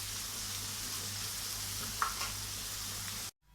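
Kefta meatballs sizzle loudly in a pan with a steady frying hiss as herbs are stirred in, a short scrape midway, before the sound cuts off abruptly near the end.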